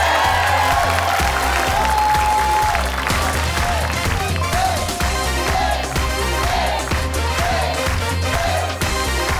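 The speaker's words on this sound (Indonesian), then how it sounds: "Yang pertama tepuk tangan yang meriah untuk Cogan" Loud, sustained studio audience applause on the Family 100 Indonesia game show fills the whole stretch, a dense crowd clapping with some cheering mixed in.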